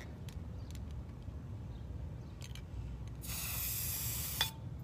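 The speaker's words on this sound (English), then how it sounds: "I'm just taking my spray paint and creating the pattern that I want." A spray paint can hisses in a short, steady burst of bright hiss for about a second, with a few fainter brief sprays before it, over low room noise.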